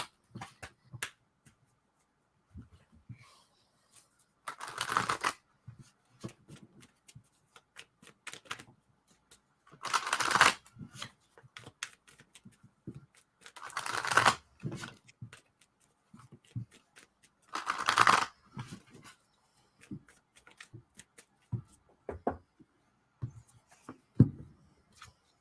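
A tarot deck is shuffled in four separate quick, papery bursts spaced a few seconds apart, fairly soft and close, with quiet gaps between and no talking.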